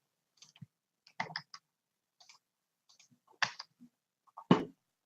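Typing on a computer keyboard, a sparse run of quiet, sharp key clicks coming in irregular short bursts with pauses between them.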